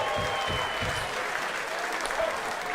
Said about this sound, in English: Hey, give a round of applause for your fucking selves. Make some noise.